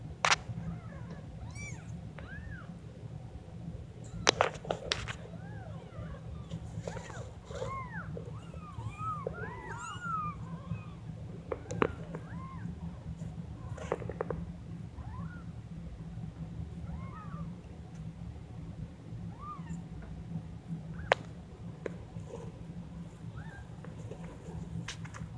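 Week-old kittens mew repeatedly in thin, rising-and-falling cries that overlap one another over a low steady hum, with a few soft knocks and bumps between the calls.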